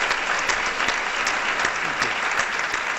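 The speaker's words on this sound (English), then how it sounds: "I would like you to give another round of applause to this really smart and gorgeous team." Sustained audience applause at a talk on sodium reduction, dense and steady throughout with no voices over it.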